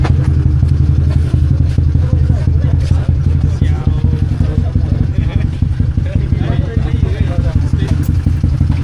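A motorcycle engine drones steadily with a loud, low rumble and clatter while riding along, with people talking over it.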